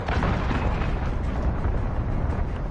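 A missile explosion in Call of Duty Modern Warfare, a loud continuous rumbling blast with rolling crackle and debris noise filling the whole moment, heavy and close.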